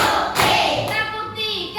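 Hand claps from a third-grade primary school class playing a counting clap game, two sharp close claps between spoken words from an adult voice.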